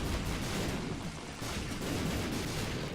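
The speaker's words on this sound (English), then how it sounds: "There are so many explosions with this guy." Rapid, dense bursts of explosions crackle continuously in The Binding of Isaac, a busy barrage of booms at a low level with no talking.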